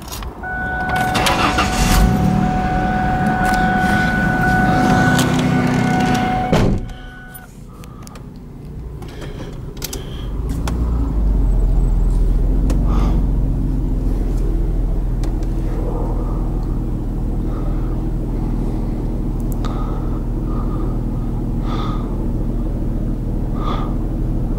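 A 2000 Ford Mustang V6 convertible cranks and starts, then idles with a low, steady engine hum as it is moved, with a loud mechanical stretch early on followed by a brief quiet gap before the engine note settles.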